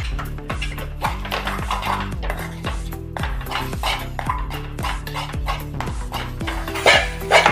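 Spoon stirring a corn breakfast mixture with salt and roasted gram flour in a metal pot, repeated scraping and clinking strokes in a steady rhythm, close and fairly loud, with no talk.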